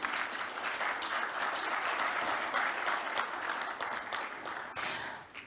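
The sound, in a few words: applause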